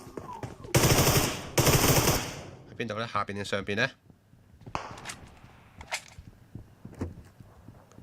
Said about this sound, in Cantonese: 有槍聲啊！